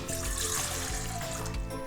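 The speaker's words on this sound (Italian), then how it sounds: "Per prima cosa nella planetaria mettiamo l'acqua" Water pours steadily into a stand mixer bowl while bread dough for Neapolitan rolls is being prepared, a continuous close trickling splash lasting about two seconds with no voices.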